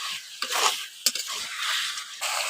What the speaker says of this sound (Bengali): এখন চিকেনটাকে মাঝে মাঝে এইভাবে করে কষে নিতে হবে, নাহলে কিন্তু কড়ার মধ্যে লেগে যাবে